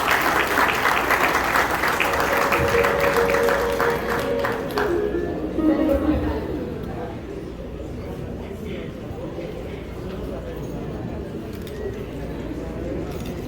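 Crowd at an INFOWorld University graduation ceremony applauds the graduates, steady clapping through the first five seconds while a voice speaks, then trailing off into quieter room sound with talk.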